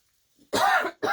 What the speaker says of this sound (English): I still have a bit of a lingering cough